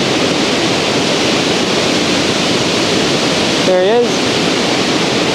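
A waterfall roars in a steady broadband wash throughout, close by, with wind buffeting the microphone, while a voice speaks briefly partway through and a drone motor whines past.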